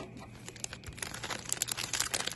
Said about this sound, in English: I'm gonna cut it neatly with these scissors.